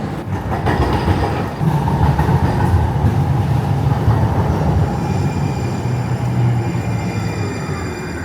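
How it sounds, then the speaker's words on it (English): A METRORail light rail train rumbles steadily along the rails on Main Street in Houston, a loud low drone of wheels and carriages with faint metallic clatter, growing closer without pause. "there's the train coming"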